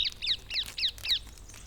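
Ring-necked parakeets in Rome giving five harsh, screechy calls in quick succession, close and fairly loud, with a faint fainter call trailing after.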